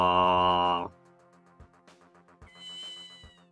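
A cat meows in the Ghost Trick video game, one drawn-out meow at the start followed by soft, sparse game music and clicking chimes, with no one talking.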